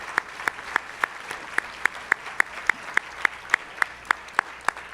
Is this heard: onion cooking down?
no